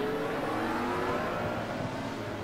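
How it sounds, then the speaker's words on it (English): BMW 635 touring race car overtaking a BMW M3 on the inside at Pukekohe racing circuit, a steady loud engine roar with a rising rev as the cars pass, continuous throughout. "And up the inside goes Wukash in the BMW 635, passes the M3."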